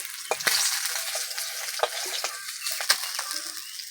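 Katla fish pieces sizzle and crackle as they fry in hot oil, a steady close hiss broken by sharp spattering pops, with no voices over it.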